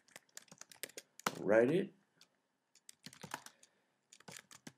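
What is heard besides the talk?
typing a PHP script on a computer keyboard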